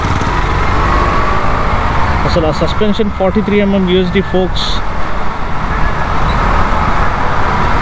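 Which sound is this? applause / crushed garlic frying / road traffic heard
road traffic heard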